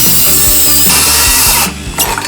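A cordless circular saw bites into a rotted wooden deck post with a loud, close whirring cut and rhythmic chatter, then the blade spins down briefly before revving again.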